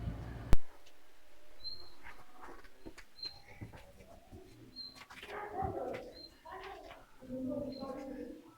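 Pigeons coo softly in the dovecotes of Ağırnas underground city, with faint repeated calls in a dim, echoing space as people talk quietly nearby.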